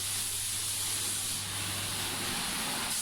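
Foam being sprayed over a car during a wash, a steady, loud, continuous hiss that holds evenly from start to finish, close by, with no talk.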